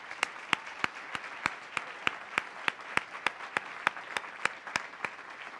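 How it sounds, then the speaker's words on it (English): A small audience at a sustainability summit gives a round of applause: evenly spaced, fairly faint claps in a steady rhythm, heard alone without talk. "Could we just give these guys a round of applause"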